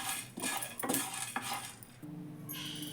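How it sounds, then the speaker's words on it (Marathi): Dry ginger and rock sugar are crushed in a mortar with a pestle, giving several close, sharp knocks and gritty clinks at an uneven pace, followed by a softer grinding rattle. "तोपर्यंत सुंठ आणि खडीसाखर खलबत्त्यात फोडून घेते"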